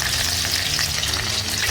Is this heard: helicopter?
no